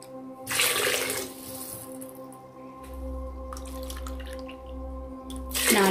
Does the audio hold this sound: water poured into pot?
yes